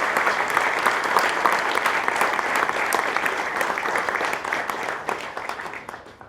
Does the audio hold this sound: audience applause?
yes